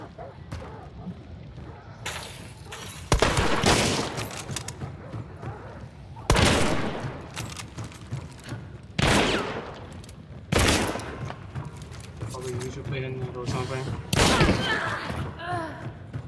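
Shotgun blasts in the video game Hunt: Showdown, several loud sharp bursts spaced a few seconds apart with ringing tails, mixed with other game noise and a voice talking in between.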